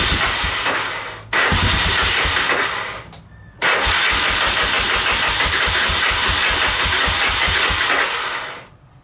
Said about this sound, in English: Let's try her again.